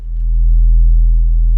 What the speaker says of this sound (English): it probably sounds like you can hear like a really low bass